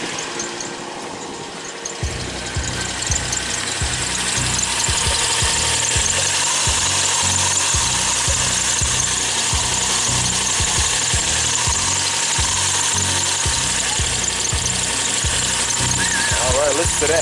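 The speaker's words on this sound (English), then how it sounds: "let's go ahead and start the car." Lexus LS400 engine cranking briefly, then catching and settling into a steady, loud idle with a continuous rhythmic throb and a high-pitched squeal running over it throughout.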